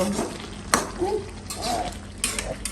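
Malabar spinach cooking with taro and a hilsa fish head, with soft stirring and gentle sizzling in a pot, a couple of sharp utensil clinks against the pan, and a faint voice in the background.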